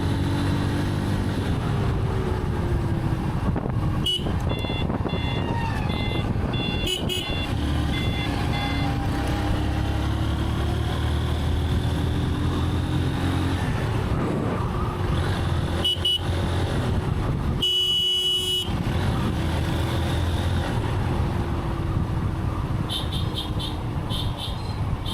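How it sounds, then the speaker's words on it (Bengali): A motorcycle rides along the Mirpur–Savar bypass road toward Birulia Bridge in Bangladesh, its engine a steady near drone beneath passing cars and trucks, with occasional horn toots and reversing beeps sounding through the traffic. "আমি একটু বাইক নিয়ে ঘুরতে বের হয়েছি"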